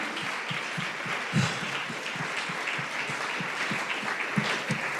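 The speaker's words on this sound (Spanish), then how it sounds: "dale más fuerte el aplauso al Señor" A church congregation applauds during a sermon, a steady wash of clapping with some louder individual claps standing out near the listener, continuing evenly throughout.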